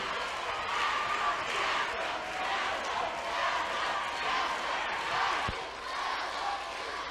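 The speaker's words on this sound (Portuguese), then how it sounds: "Palmas para eles!" A crowd of students at a large UERJ 2023 exam-prep math class cheers and applauds their directors and supervisors, a steady, dense roar of clapping and voices with a few sharp thuds.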